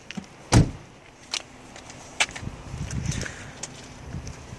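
A car door thumps shut once, sharp and fairly close, followed by fainter clicks and rustling against quiet outdoor background noise.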